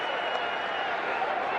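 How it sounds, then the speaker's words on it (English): Cheetahs rugby players cheer and shout on the field during a Currie Cup match against the Pumas, a steady, dense wash of crowd-like noise throughout. "Lots of cheering there from the Cheetahs players."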